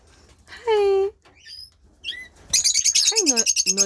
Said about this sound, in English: Hi, noisy lovebird.